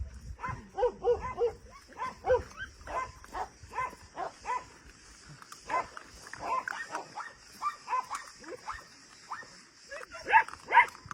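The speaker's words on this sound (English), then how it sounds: "So 7 more new puppies in the shelter." Several newly arrived puppies in an animal shelter whimper, yelp and give short barks in uneven, overlapping bursts across the whole stretch, close by and fairly quiet, with some human voices mixed in at times.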